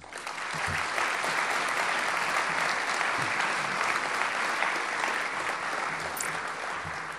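Audience applause at the opening speech of a geopolitics event in Nantes, a full, sustained roar of many hands clapping that holds steady throughout and tapers slightly at the end.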